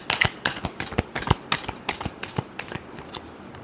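Tarot cards shuffled close up in a quick run of crisp riffling and slapping bursts, with no talk over them.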